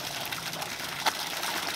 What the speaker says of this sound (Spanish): ¡Es una cascada!